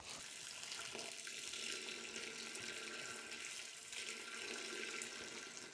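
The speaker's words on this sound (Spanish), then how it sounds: "Ahora echamos el agua." Water poured steadily from a jug into a large pot while making homemade soap, a continuous soft splashing rush that holds evenly for several seconds, faint and unbroken.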